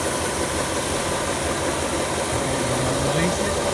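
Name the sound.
electric motor running under load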